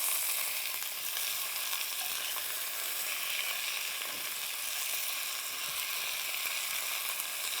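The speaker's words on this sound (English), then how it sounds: "It should be seared already from one side" Meat searing in a hot pan for Neapolitan ragù gives a steady, bright sizzle and crackle that holds evenly throughout, close up and with no voices.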